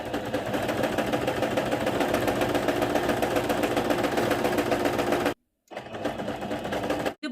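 A domestic sewing machine runs continuously on a placemat with a simple decorative stitch, a close, even mechanical whir with a fast stitching rhythm that stops abruptly near the end, then briefly resumes.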